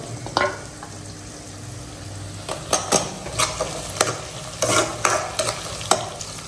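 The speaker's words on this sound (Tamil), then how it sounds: "இப்போ பூண்டு சேர்த்துக்கலாம்." Garlic is fried and stirred in a pan, with a steady soft sizzle under repeated sharp scrapes and taps of a spoon against the pan.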